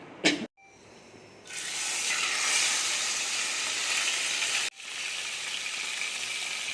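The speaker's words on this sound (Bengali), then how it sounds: "মাছগুলো ভেজে নেবো" Fish frying in a pan, a loud, steady sizzle that starts after a brief clatter, cuts out for a moment, then carries on.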